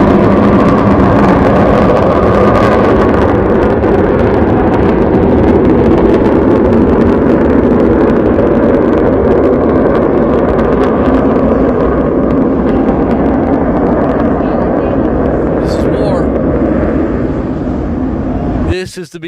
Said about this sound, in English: here's the MiG taking off from Tehran Airport